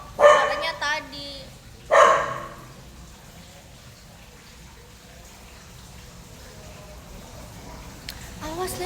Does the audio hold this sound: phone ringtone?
no